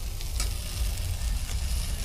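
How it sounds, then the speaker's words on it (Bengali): Eggplant frying in oil in a home kitchen, giving a continuous, close, even sizzle with faint stirring, and no talk. "আর এধারে কি বেগুন ভাজা হচ্ছে?"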